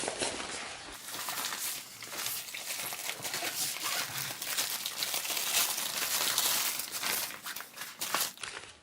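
A nylon carry bag for an Amazon Basics budget tripod crinkles and rustles as it is handled up close, a continuous scratchy fabric sound rising and falling for several seconds.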